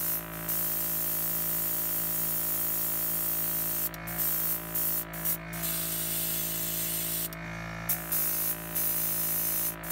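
A paint sprayer shoots cleaner through in a steady, loud hiss that runs almost without a break, with a few brief dips where the trigger is released.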